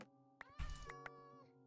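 A cat in Minecraft gives a few soft meows, quiet and close, set against faint steady background tones.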